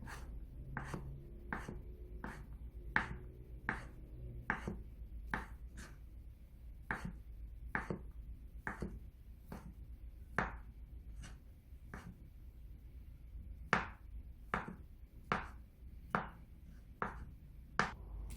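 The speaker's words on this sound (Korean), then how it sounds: "쫑쫑 썰어줍니다." Knife finely chopping green onion on a cutting board while making tofu fried rice, a steady series of crisp, evenly spaced taps heard close and alone over a low background hum.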